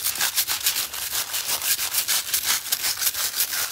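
Brisk, rhythmic scrubbing of foil adhesive on antlers, a close, loud rasping rub repeated in quick back-and-forth strokes with no talking.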